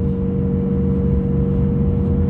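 Steady low engine drone from a BMW M850i running in sport mode, a constant near hum with a faint tonal whine layered on top and no clear rev spikes.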